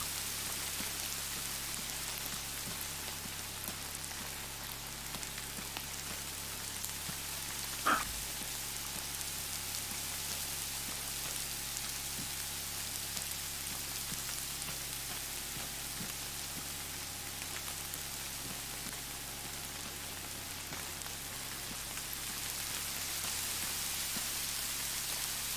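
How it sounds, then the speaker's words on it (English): Heavy rain pouring in a zombie survival video game, a constant dense patter and hiss that runs throughout, with one sharp thump partway through and no talking. "It's just bucketing down."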